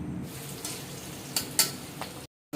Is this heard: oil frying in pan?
yes